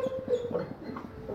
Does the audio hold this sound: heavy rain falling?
no